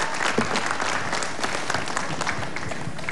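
A concert crowd at a band's farewell show for a band member keeps up steady, dense applause for him and his family, a loud continuous roar of clapping throughout.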